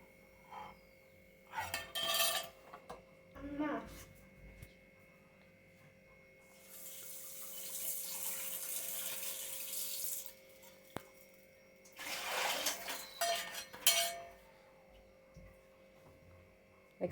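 Tap water runs steadily into a sink while a pan is washed in a home kitchen, a soft rushing stretch followed by a second burst, with faint clinks and a low hum underneath.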